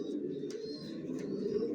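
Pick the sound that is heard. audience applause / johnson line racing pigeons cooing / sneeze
johnson line racing pigeons cooing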